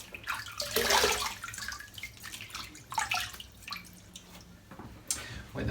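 Water running and splashing as a face is wetted before a wet shave, close trickles and drips coming in uneven bursts with no talking.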